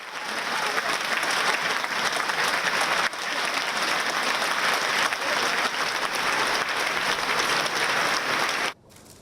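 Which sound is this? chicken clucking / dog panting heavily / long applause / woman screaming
long applause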